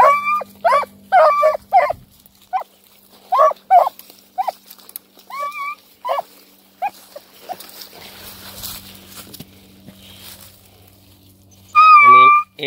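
A young puppy lets out a run of short, sharp barks and yips mixed with thin whimpers, close and loud, then goes quiet before one more burst of yelping at the end.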